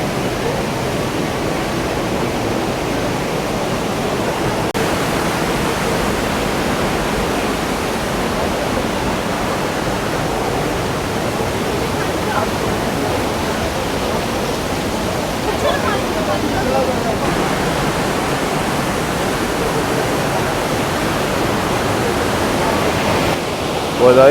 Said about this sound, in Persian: آبشار نیاگارا